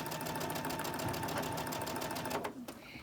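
A sewing machine runs steadily while stitching quilt blocks at a quarter-inch seam, its close, even mechanical whir continuing for about two and a half seconds before it stops abruptly.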